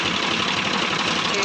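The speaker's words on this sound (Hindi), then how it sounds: "ये अपना ट्रैक्टर है स्वराज 855। ये पुराना ट्रैक्टर है बहुत।" An old Swaraj 855 tractor engine runs nearby with a steady, rough mechanical rumble, and someone speaks over it.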